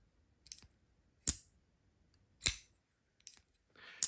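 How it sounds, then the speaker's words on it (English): The lock on a titanium folding knife (QSP Penguin) clicks sharply as it disengages, several crisp separate clicks at uneven intervals against near silence. "It clicks every time you disengage."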